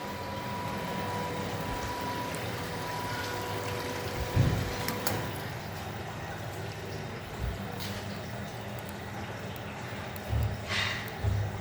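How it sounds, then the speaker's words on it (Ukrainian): Water steadily trickling and draining off a cncman 1325 stone-cutting CNC machine with a 5.5 kW spindle after a cut, a constant wet hiss with a few soft knocks and clunks. "Водичка ще стікає."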